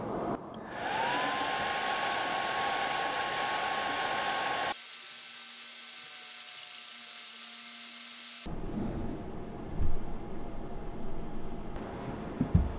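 An ATEZR L2 36-watt laser engraver works on a hardened steel saw blade, giving a steady hissing, fan-like whir that shifts in tone partway through, with faint clicks and knocks near the end.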